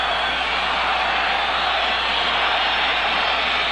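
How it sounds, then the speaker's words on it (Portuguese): A stadium crowd of Vasco supporters roars a player's name during a 1981 Carioca championship final against Flamengo, a dense, continuous wall of massed voices, loud and unbroken throughout. "O nome de Roberto agora é gritado intensamente pela torcida do Vasco."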